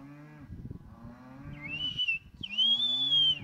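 Farm cattle moo loudly and repeatedly, with long drawn-out calls that rise in pitch toward the end. No one talks over them.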